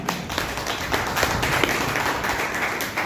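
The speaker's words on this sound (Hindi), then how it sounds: "एक बार जोरदार फिर से तालियां।" An audience at a talk on diabetes, arthritis and other health problems breaks into loud, dense applause, a continuous wash of many hands clapping close by with no voices on top.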